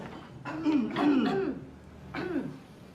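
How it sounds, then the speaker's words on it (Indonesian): A few throaty coughs or throat-clearing bursts, close and fairly loud, in two separate bouts with a short pause between them. "Kalau batuk ke dokter lah"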